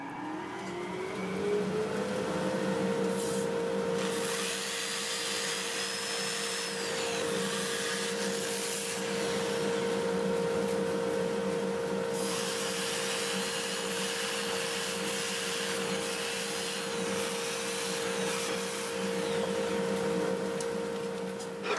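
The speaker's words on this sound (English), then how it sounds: "I'm going to get my dust collector going" A workshop dust collector spins up in the first couple of seconds, then drones on as a steady, loud whine with a constant hum beside a wood-turning lathe.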